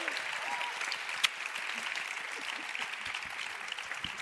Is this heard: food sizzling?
no